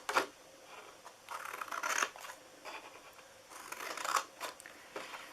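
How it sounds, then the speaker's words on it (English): Scissors snip down the sides of a paper treat box, a series of close, quiet crisp cuts in irregular bursts with soft paper rustling between them. "we are going to cut on the sides here. Cut down these two."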